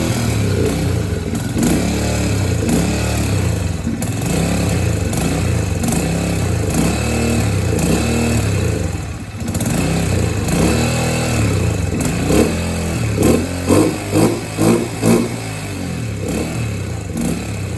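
Yamaha TTR125 dirt bike engine running on choke, a loud close steady single-cylinder putter with clattery surges of throttle near the end, no talking.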